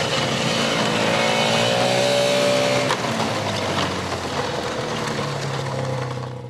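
A snowmobile engine from the emergency services fleet in the Gomel region, one of the new machines fitted with a sled for evacuating people, roars loud and close, with a rising rev that then drops back to a steady drone.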